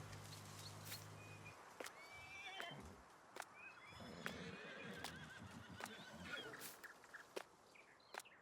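A horse in Farming Simulator 19 whinnies and snorts while hooves clip-clop in sharp, irregular steps on a ranch pasture, close and clear, with faint birdsong behind.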